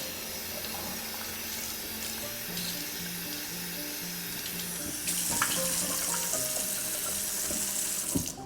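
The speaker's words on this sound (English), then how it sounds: "I like to rinse it like 3 or 4 times." Tap water runs steadily over sprouting seeds being rinsed in a sink, a continuous splashing wash that grows brighter and louder midway, with small clinks near the end.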